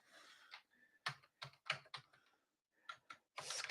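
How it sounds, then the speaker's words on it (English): Fingers typing on a computer keyboard in uneven bursts of close, crisp keystrokes, with brief pauses between runs and no talking. "My fingers keep sliding on this keyboard."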